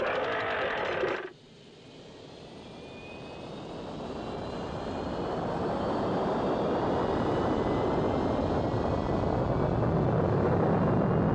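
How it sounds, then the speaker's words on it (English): An aircraft taking off in the PlayStation game Mega Man Legends: after a short burst of other game sound, a steady engine roar builds gradually and holds loud and continuous to the end. "Now we're getting ready for takeoff."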